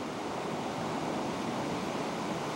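Surf of the Mediterranean Sea rolling near a peninsula with a lighthouse, a continuous, even wash of broadband noise, faint and steady with a windy edge, and no voices.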